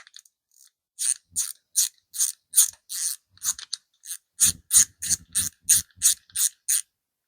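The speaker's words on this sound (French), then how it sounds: "Alors, je serre tout ça au couple et on se voit après." A torque wrench tightens the timing bolts on a 1275 engine with a long series of rhythmic ratchet clicks, about seventeen in all. They start spaced out, then come as a faster, heavier run toward the end. The clicks are close with no speech.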